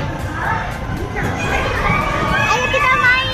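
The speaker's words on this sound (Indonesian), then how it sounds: "Banyak yang teriak-teriak." Crowd at Tokyo Disneyland, a dense wash of excited voices with children shouting and screaming, loud and continuous, with nearby chatter mixed in.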